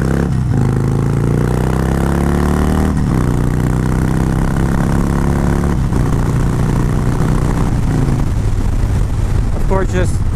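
A Harley-Davidson Sportster 72 XL1200V motorcycle on a test ride roars loudly and steadily up close, its engine pitch climbing through several gear shifts with brief dips between them.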